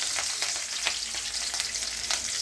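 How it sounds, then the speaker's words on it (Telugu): Green chillies and onions fry in oil in a pan with mint, coriander and carrots, giving a steady close sizzle with faint scraping stir strokes and no talk. "ఇప్పుడు నేను పచ్చిమిర్చి వేస్తున్నాను. దానితో పాటు ఆనియన్స్"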